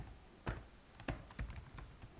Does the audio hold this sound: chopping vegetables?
no